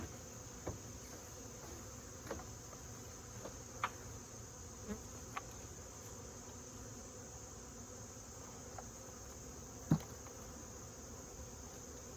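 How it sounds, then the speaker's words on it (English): A steady drone of agitated honey bees fills the background, humming continuously, with a few faint clicks and taps scattered through it. "These bees are in a bad mood."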